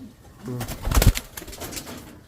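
Racing pigeons in a busy flyers' loft, with a louder burst around the middle and soft low cooing under faint background voices.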